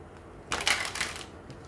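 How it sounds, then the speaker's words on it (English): A tarot deck is shuffled lightly by hand, giving one short soft burst of riffling card noise close up in an otherwise quiet room. "the decks have already been pre-shuffled, so I won't be shuffling too hard to get your cards."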